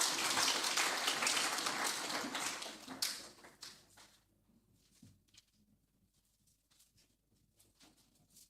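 Audience applause at a fire conference, a full burst of clapping for about three seconds that quickly thins to a few scattered claps and fades into near silence.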